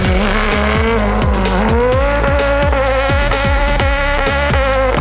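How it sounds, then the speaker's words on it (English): A full carbon Subaru Brat race car screams at high revs, its engine note rising and falling in rapid rhythmic pulses as tires squeal and skid, loud and close throughout. "It's the best sounding Subaru I've ever."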